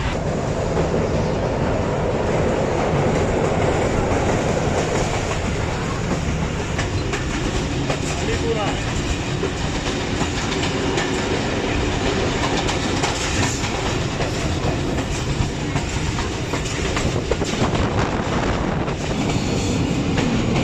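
The Lasani Express rolls on rails between Narowal and Sialkot, heard from onboard as a steady, continuous rumble with rhythmic clickety-clack of wheels throughout.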